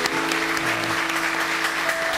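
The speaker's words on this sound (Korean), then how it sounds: "감사의 박수 올리겠습니다." Church congregation offering thankful applause during worship, a steady, dense wash of clapping over a sustained low musical drone.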